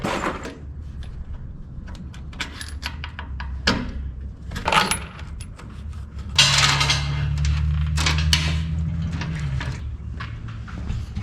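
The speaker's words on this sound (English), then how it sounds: "Go ahead and start a few more bolts here." Metal clinks, taps and light clatter as bolts are started on the clutch assembly of an IH 1066 tractor, with a low steady hum underneath partway through.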